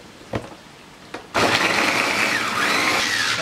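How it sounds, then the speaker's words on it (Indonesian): Electric food chopper whirring loudly as it blends ingredients for a fried chicken and water spinach dish with shrimp paste, starting after two short knocks and running as a steady, continuous buzz. "Langsung kita chopper aja."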